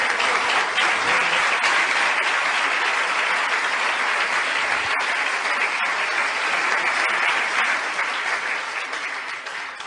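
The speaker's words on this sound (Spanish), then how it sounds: "Démosle un aplauso al Señor." Church congregation applauding in praise during a Spanish-language sermon, a dense, steady roar of many hands clapping close by that carries for nearly ten seconds before easing off slightly at the end.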